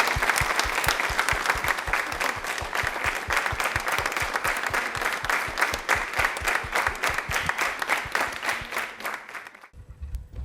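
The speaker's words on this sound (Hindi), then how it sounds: "तालियां प्लीज एक बार जोरदार जोरदार होनी चाहिए" A studio audience at a Women's Day program claps loudly, a dense roar of applause over a strong, steady beat of unison clapping that cuts off abruptly just before the end.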